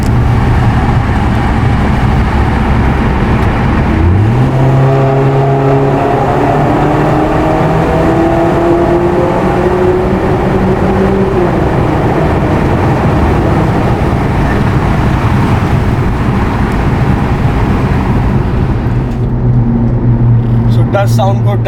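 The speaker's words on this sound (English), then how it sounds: "I'm going to make you hear the exhaust in the tunnel now." A Mini Cooper S Countryman R60 1.6 with a Stage 1 tune and Valvetronic rumbles loud and close through a tunnel, its exhaust rising in pitch as the revs climb. The drone holds steady and then fades near the end.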